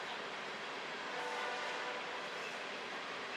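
A train passing on an active track beside an outdoor pickleball court, a continuous broad rushing rumble at moderate distance, steady throughout with no voices.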